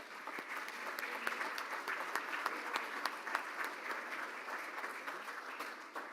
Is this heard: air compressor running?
no